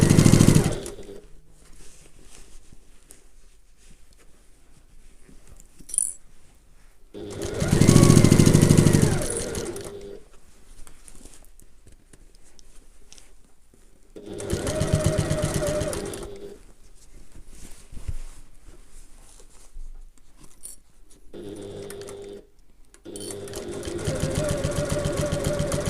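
A sewing machine stitches around the top of a handbag in several loud, steady runs of a few seconds each, separated by quieter pauses with faint handling noise.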